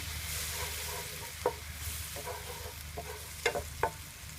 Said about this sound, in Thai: อันนี้หอมหัวใหญ่ขูดนะคะสามช้อนโต๊ะ ใส่ลงไป ผัดให้หอม